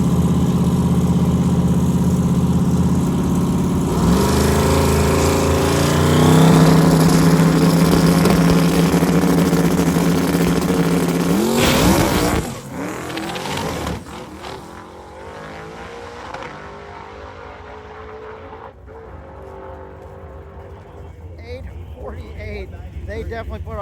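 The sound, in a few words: big-tire drag racing car accelerating down the strip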